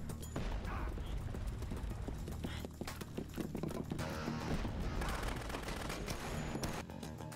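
Rapid gunfire in Dead Rising on PS5 during a fight with the psychopath Cletus, a dense, steady stream of crisp shots and mechanical clatter running through most of the stretch, loud and close.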